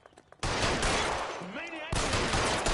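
Gunfire erupts in a video game. Dense, continuous automatic fire bursts in loudly after a quiet start and keeps going with a brief dip, while a voice cries out partway through.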